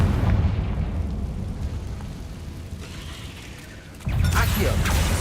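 A Confringo spell explosion in the video game Hogwarts Legacy, a rumbling blast with a low, sustained roar and then a sharp, louder burst near the end, with game sounds all around.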